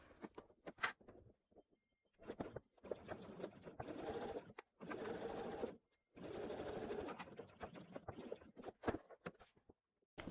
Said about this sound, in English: And I'm going to sew directly along the line, backstitching at the beginning and at the end.